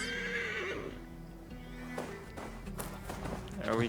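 A horse in Assassin's Creed Valhalla whinnies loudly and then its hooves clip-clop in a quick run, with a few tapping sounds and faint game ambience behind.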